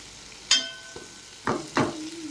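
Large pumpkin pieces cook in oil in a pan for a pulusu stew, with a soft sizzle broken by a few sharp clinks and scrapes of a spoon stirring against the metal, close and quiet, no talk.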